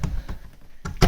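Old wooden tack room door in a 100-year-old Finnish stable swinging shut, a few dull thuds and knocks, the last one loudest, close by.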